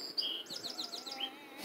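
Small birds give quick high chirps, a few sharp single notes followed by a rapid rising-falling trill, close and fairly quiet over a light background hum.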